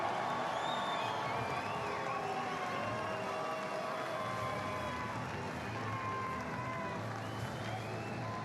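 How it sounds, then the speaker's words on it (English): A crowd at a timber sports team world championship cheers and whoops for the Italian team, a steady wash of distant applause and shouts filling the whole stretch. "Applaudissements à l'équipe d'Italie!"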